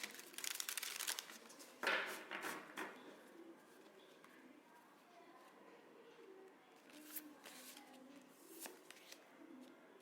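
Tarot cards are shuffled by hand in a quiet room, giving soft papery riffles and rustles in bursts, busiest in the first three seconds and then lighter and sparser.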